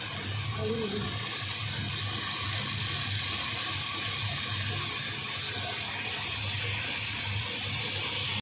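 Water poured into a curry being fried down in a home kitchen, a steady continuous wash of liquid noise with a low rumble beneath, moderately loud and unbroken.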